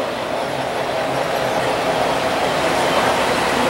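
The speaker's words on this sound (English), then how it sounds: "Got a train on the 3rd level up there going around." A model train circles the third level of a multi-level railroad layout, giving a steady, dense rolling rumble that holds constant throughout without pause.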